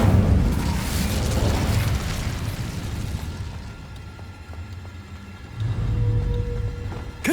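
The Incendio fire spell in the Hogwarts Legacy game lets out a loud whooshing burst with a deep rumble, which fades to a quieter crackling tail before a second low surge swells up near the end.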